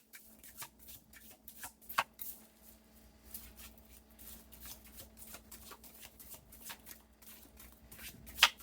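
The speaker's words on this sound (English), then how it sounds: "I think I'd like to pull another row of these cards here." Tarot cards being shuffled by hand, a series of quick soft riffling and tapping bursts, close and fairly quiet, with a couple of sharper snaps, no talking.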